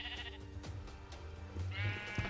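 Sheep in the video game Minecraft bleat twice, a wavering bleat at the start and a longer one near the end, clear and close over soft background noise.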